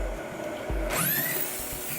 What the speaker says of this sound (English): And the rivets are now punched through.